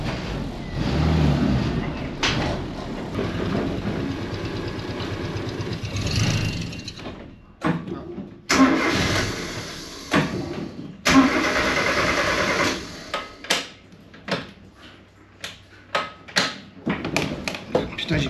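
Converted Renault Estafette van ("Panzer Estafette") engine running roughly after a brief ignition cut, with loud stretches of engine noise broken by abrupt drop-outs and sputtering bursts, close by.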